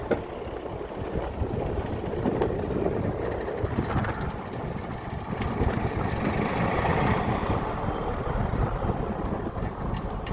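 A Kirovets K-701 tractor stuck while ploughing, its heavy diesel engine rumbling loud and close with a churning, fluttering drone as the wheels slip in the furrow, steady throughout.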